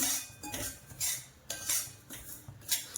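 Poppy seeds being dry roasted in a pan, stirred with a metal utensil: quiet, close scrapes and clinks against the pan come in a regular rhythm roughly twice a second.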